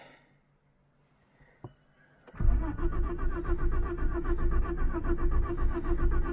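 A Citroën XM 3-litre V6 engine cranks without firing because of an ignition fault. A brief click sounds, then a loud, steady churning starter drone runs unbroken to the end, with no voices.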